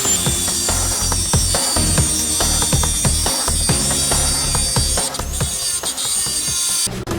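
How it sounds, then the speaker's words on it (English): A Dremel rotary tool grinds a clamped workpiece with a steady high-pitched whine. Rough, rasping bursts repeat throughout, with a brief drop near the end. "let's go ahead and do a little grinding"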